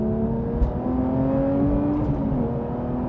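A Porsche 911 GT3 Touring drives in sport mode with firm suspension, its engine a steady close mechanical drone with a rising pitch as it pulls, plus road rumble and a couple of faint clicks.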